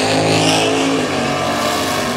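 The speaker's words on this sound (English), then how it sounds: "a short burnout by the Corvette as it is getting hotter and hotter out today" Corvette race car doing a short burnout at a drag strip, a loud close engine roar with steady harmonic tone and no voices.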